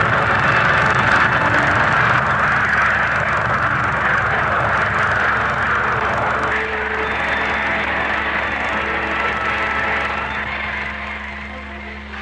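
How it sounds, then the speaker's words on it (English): RAF twin-seat jet training planes of the Central Flying School's aerobatic team take off, a loud sustained engine roar with a steady drone that slowly fades as they climb away. "the Red Pelicans take off for aerobatic practice"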